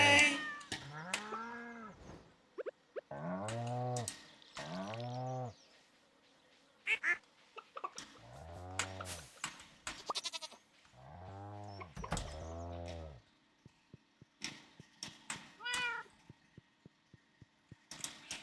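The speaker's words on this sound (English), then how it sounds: "Yes, the pig just meowed." A pig in modded Stardew Valley gives a series of cat-like meows, several drawn-out, close and clear calls spread across the stretch, separated by quiet gaps and some clicks.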